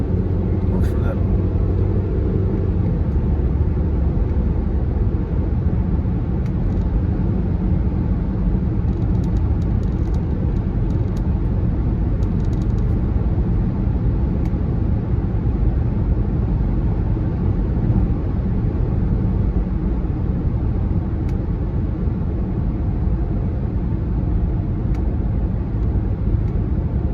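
Inside a car driving on the road in the morning, a loud, continuous low engine and road rumble runs throughout, with a person talking over it.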